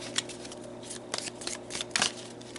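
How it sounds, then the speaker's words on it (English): Tarot cards are shuffled close up, producing a continuous soft riffling and flapping with a few sharper bursts of card noise. "So let's pull some more cards."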